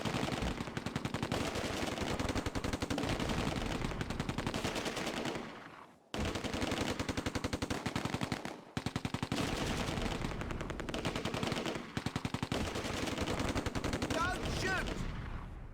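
Rapid machine gun bursts and heavy gunfire rattle near and loud in a World War II Arnhem battle in Close Combat: A Bridge Too Far, where a Panther tank engages a rifle section at point-blank range, with brief pauses between long volleys.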